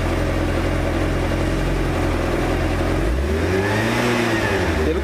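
Yamaha T-Max scooter engine running steadily under load, then revving up with a rising pitch that climbs and falls near the end, loud and close with no talking.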